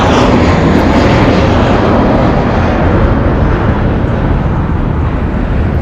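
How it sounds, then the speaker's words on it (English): An American Airlines Airbus A321 airliner departing LAX gives a loud, steady jet roar that fills the whole stretch without a break. "Departing here is American Airlines going to Dallas, flight 1639. It's an Airbus A321"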